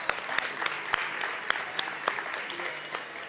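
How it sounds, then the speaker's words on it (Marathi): An audience at a public meeting claps steadily, a dense spread of many hands with sharper individual claps popping out, moderately distant and continuous throughout. "माझ्या सगळ्या लाडक्या बहिणींसाठी पहिला जोरदार टाळ्या होऊन जाऊ देत"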